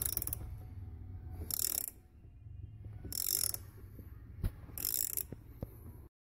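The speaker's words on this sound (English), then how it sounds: "Use the appropriate set wrench." Set wrench snugging an AEM methanol injection fitting on a Dodge Challenger, heard as four short bursts of metallic ratcheting clicks spaced about 1.5 seconds apart, close and fairly quiet with no talking.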